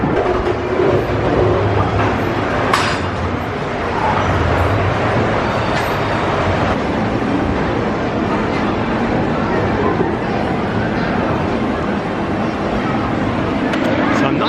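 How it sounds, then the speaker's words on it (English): A Busch Gardens Virginia park train rolls past with a steady rumble and clatter of cars, fairly close and continuous throughout, with scattered crowd sounds around it. "And there's the train coming up right now."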